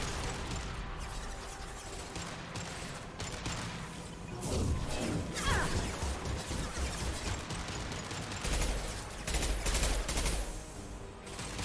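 Sustained gunfire in Mass Effect 2: bursts of rapid shots and impacts crackle in a dense, loud sequence, with heavier clusters midway and near the end and no voices.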